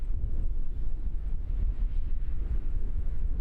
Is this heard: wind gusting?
yes